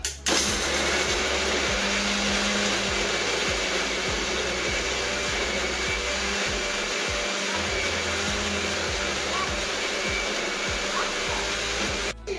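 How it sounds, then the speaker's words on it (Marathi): A loud, steady motor whine of a mixer grinder grinding biscuits into powder, running continuously for about twelve seconds, starting and stopping abruptly, with no talking. "चला तर मिक्सरला लावून घेते."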